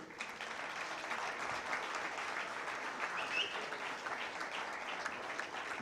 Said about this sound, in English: please join me in welcoming on stage with a rousing applause, please, Mr. Ahmed Al Ameri